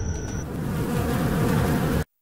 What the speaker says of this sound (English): My God, it's full of bees.